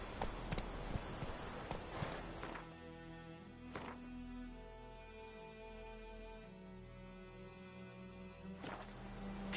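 Roach's hooves in The Witcher 3 give a few soft, distant clip-clop steps early on, then fade under a quiet sustained musical and ambient bed, with faint thuds returning near the end.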